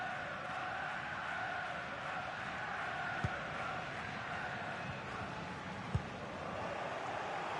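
In a football video game, a stadium crowd produces a steady, dense roar throughout, with faint thumps cutting through the broad noise.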